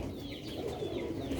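A pigeon coos faintly in a brief low murmur under steady background noise.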